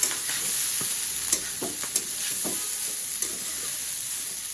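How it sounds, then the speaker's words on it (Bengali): Food frying in oil in a pan is stirred in a steady run of scraping strokes, with a continuous close sizzle underneath and no talk. "হাতটা ধরে নেই এখন নাড়া দিয়ে দিব নিচে তেল"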